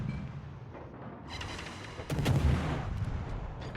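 Destroyer guns firing in a naval combat game, a steady stream of booming shots with a louder, heavier burst of blasts midway, dense and continuous with no talk.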